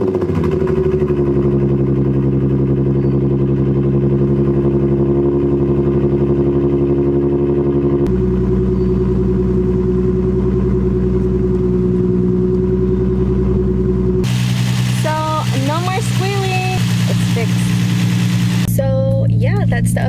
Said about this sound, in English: let's do a cold start now